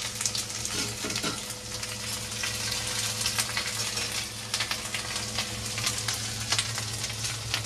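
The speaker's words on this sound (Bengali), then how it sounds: "তোমরা দেখতেই পেলে যে মা কি ফোড়ন দিল" Whole spices tempered in hot oil for phoron crackle and sizzle steadily in a home kitchen, a continuous dense hiss with scattered pops, a low hum running underneath.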